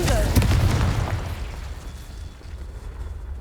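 A Confringo blasting spell explodes in Hogwarts Legacy, one deep booming blast that rumbles loudly at the start and then fades into a long, quiet tail.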